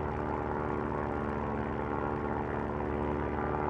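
Airplane engine in the survival video game Stranded Deep: a steady, loud propeller drone with a constant low hum and dense rumble, continuous and unchanging throughout with no talk.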